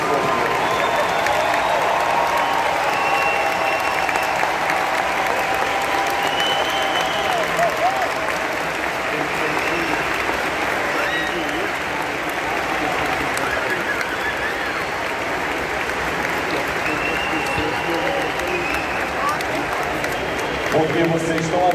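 A convention audience applauding throughout, dense sustained clapping at full volume with crowd noise and a voice talking over it.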